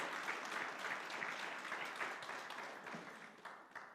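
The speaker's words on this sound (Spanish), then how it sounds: "démosle palmas al Rey" A church congregation claps steadily throughout a worship service, a dense wash of applause that fades slightly toward the end.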